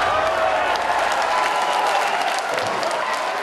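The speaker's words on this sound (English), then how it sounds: "you could almost hear the cheering from ESA's Darmstadt mission control echo around the world" A crowd at ESA's Darmstadt mission control cheers and applauds steadily, a dense roar of clapping and voices that holds loud and constant throughout, celebrating Rosetta and Philae mission success.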